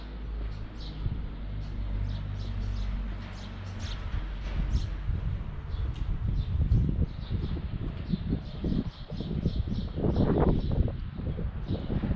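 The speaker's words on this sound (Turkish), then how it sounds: "Ama çok güzel kuş sesleri var." Outdoors in a quiet Yozgat neighborhood during a holiday, small birds chirp in short, repeated bursts, faint against a low background rumble and scattered nearby shuffling.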